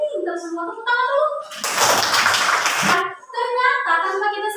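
A classroom of elementary school children bursts into loud, dense group clapping lasting about a second and a half, with a teacher's speaking voice before and after.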